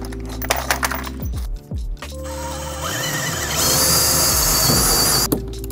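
A power drill whirs up close, its motor pitch rising and holding steady amid clunks and handling noises.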